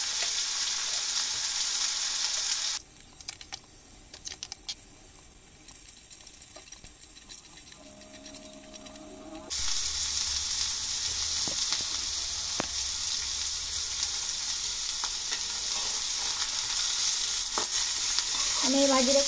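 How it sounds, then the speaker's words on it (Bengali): Vegetable bhaji with salt and turmeric cooks uncovered on a low stove flame, a steady hiss and sizzle that drops quieter mid-way, with faint clinks, then returns at full strength. "আস্তে আস্তে চুলার উপর এভাবে রেখে মশমশে করে ফেলবো।"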